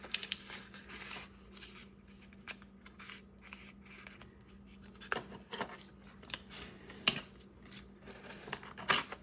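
Paper being folded and creased by hand while making junk journal ephemera, giving quiet close rustles and crisp sliding scrapes in irregular bursts, with a steady low hum underneath.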